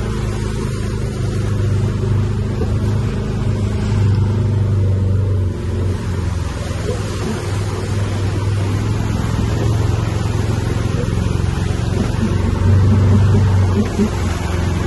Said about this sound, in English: Some really deep bits we drove through there.